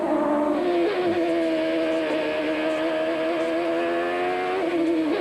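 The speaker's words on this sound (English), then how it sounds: "You can hear him play with the throttle and jerk up and down on that steering wheel" A 1992 CART Indy car racing at Mid-Ohio, its engine note held high and loud with small throttle blips and wavering pitch as the driver fights for control, no voices over it.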